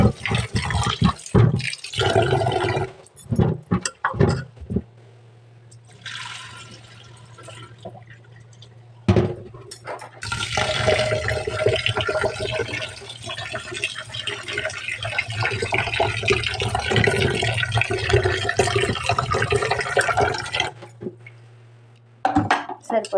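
Water poured into a cooking pot in a home kitchen, a steady splashing fill stream with a low hum underneath, interrupted by short clatters and drips, with someone talking over parts of it.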